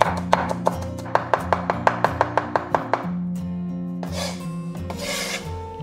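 Garlic minced with a knife on a cutting board: a fast, even run of crisp taps for about three seconds, then softer rasping and scraping strokes.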